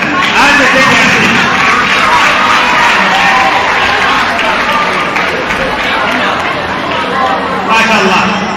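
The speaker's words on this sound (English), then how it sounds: "Now let us clap for them as they take their seat." Crowd of students applauding at an exam preparation seminar in Ghana, a dense continuous wash of clapping mixed with crowd chatter and voices, loud and steady throughout.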